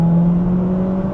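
A Toyota Celica GT4 CS exhaust drones from inside the car while driving, a steady low hum with a smooth, even tone, fairly loud and unbroken.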